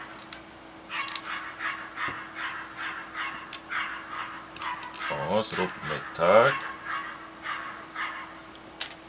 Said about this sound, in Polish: Ale pies jakiś ujada.